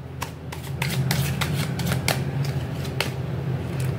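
Tarot cards being shuffled and drawn make a steady run of papery riffles and flicks, close and fairly loud, over a low constant hum in the room.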